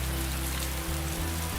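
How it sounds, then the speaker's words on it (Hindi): Steady cartoon rain pours down in a dense, even hiss, loud and constant throughout with no voices over it. "बारिश भी थमने का नाम नहीं ले रही"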